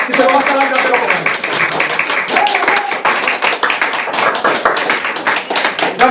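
Congregation in a church service applauding, dense steady clapping throughout with a voice or two calling out over it.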